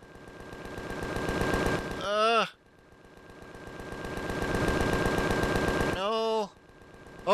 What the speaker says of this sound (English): Oh, wait, he's gonna start shooting.